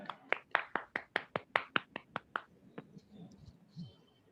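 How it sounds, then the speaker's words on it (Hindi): A burst of about a dozen sharp, evenly spaced claps from an audience at a business seminar, fairly close, that slow and fade out, followed by faint background noise. "तो मैं आप सभी लोगों की जोरदार तालियों के बीच में बुलाना चाहूँ से मीना कठेत"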